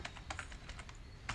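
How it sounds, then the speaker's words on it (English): Fingers tap a computer keyboard in a quick, uneven burst of close, crisp keystrokes, with no voices over them. "I'm typing it here so that it's clear."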